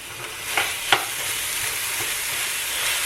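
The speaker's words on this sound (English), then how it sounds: "Ground beef is in the skillet. And I'm going to get that browned up really good" Ground beef browns in a large skillet for egg roll in a bowl, giving a steady low sizzle with a couple of sharp scrape clicks from stirring near the start.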